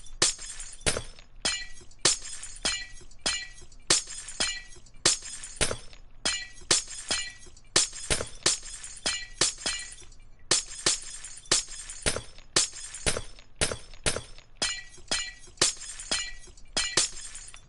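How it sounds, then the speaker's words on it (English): Glass blocks shattering one after another in Minecraft on PS4, a rapid, steady series of crisp breaking crashes with bright tinkling tails, close and clean with no talk. "let's break all that glass down."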